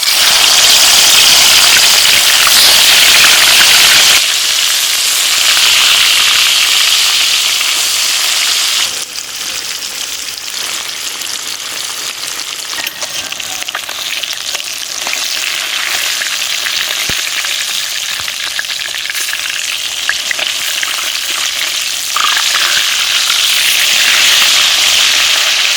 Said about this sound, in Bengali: তেল আমার গরম হয়ে গেছে, মাছগুলো তেলের মধ্যে ছেড়ে দিচ্ছি।